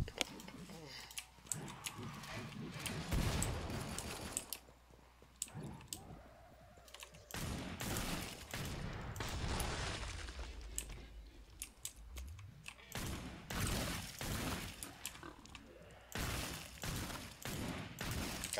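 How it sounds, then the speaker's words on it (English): Rapid gunfire bursts in the video game Killing Floor 2 as clown Zeds are shot, sharp cracks in irregular volleys interspersed with clicking and short quiet gaps. "It's so satisfying shooting the clown Zeds."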